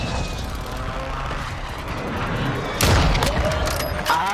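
A sniper rifle cracks once in Call of Duty Warzone on Ashika Island, a sharp loud report with a booming tail, followed by a smaller pop, over steady gunfire and battle noise.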